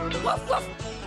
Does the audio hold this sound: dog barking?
yes